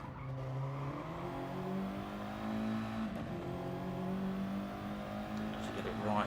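An Audi TT race car in a racing video game brakes hard into a hairpin, then accelerates away, its engine droning continuously with shifting pitch and a hint of tyre squeal, under steady commentary.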